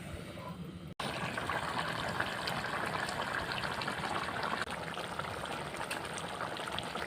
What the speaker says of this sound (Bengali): এবার আমি দিয়ে দেবো এখানে জল।